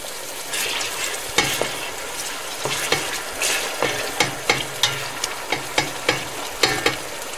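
Onions frying in oil until brown for a large-pot biryani: a constant bright sizzle with repeated spoon scrapes and knocks against the pot, falling into a fairly regular rhythm in the second half, no speech.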